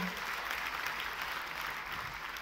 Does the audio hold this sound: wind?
no